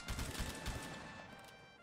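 Musket volley fired by historical reenactors outdoors, with a dense, rumbling burst of overlapping shots that decays into a long, fading echo.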